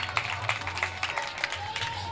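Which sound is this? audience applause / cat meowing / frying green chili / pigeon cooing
audience applause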